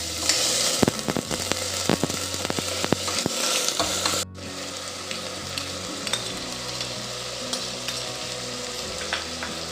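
Chopped potato, onion, carrot and beetroot pieces fry in oil for a traditional bajra khichdi, with a steady close sizzle and repeated scraping stirs of a spoon against the pan.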